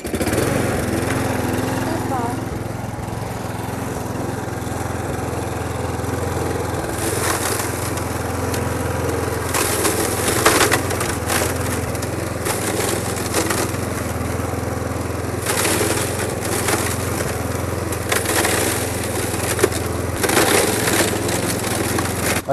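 A lawn mower shreds small woody garden waste into fine mulch, a steady engine drone broken by recurring crunchy splintering bursts as branches are fed in, while people talk over it.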